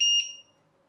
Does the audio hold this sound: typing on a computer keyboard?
no